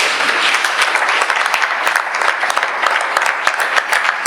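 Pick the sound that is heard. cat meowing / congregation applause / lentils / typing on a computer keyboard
congregation applause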